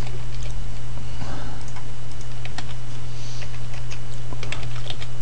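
Someone types code into a program editor on a computer keyboard running Linux, producing steady, close key clicks over a constant low electrical hum, with no voices.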